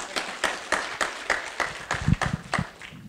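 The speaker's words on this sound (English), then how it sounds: "can I get a round of applause for that?" An audience at a leadership event claps in a steady round of applause. The individual claps come in a fairly even, rhythmic pulse, close and moderately loud, with a slightly heavier cluster near the end.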